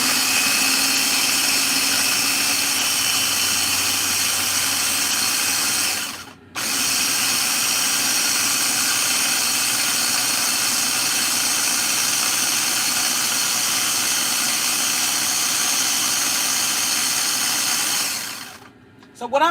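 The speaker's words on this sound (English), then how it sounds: "what I like about this chopper is you push down, you can stop it" An electric food chopper whirs steadily as it blends oil and seasoning for Jamaican oxtail, running loud and continuous with one brief stop partway through before starting again, then cutting off near the end.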